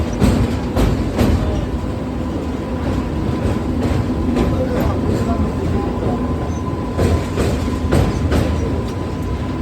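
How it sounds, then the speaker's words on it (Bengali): Howrah–Medinipur local train at a busy station, a loud continuous rumble of wagons rolling with periodic clanks and clicks of wheels over rail joints, crowd noise mixed underneath. "খুব সুন্দর ট্রেনটা এসছে রাইট টাইমে"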